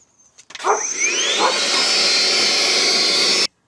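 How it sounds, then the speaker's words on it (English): A vacuum cleaner switches on inside a van being converted to a camper, running steadily, loud and close, with a rising whine that settles into a constant roar before cutting off. "Now to clean up. Vacuum it."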